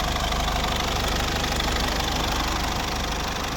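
A Mercedes Vito W638 with a 2.2 CDi diesel engine runs at idle, a steady, even diesel clatter close and loud throughout.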